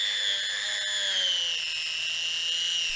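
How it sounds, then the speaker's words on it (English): A power drill whining at high speed during work on a small sailboat's bow, a continuous close tone that sags slightly in pitch under load, with no talking. "That drill bit was way too short, so I had to go and get a longer one."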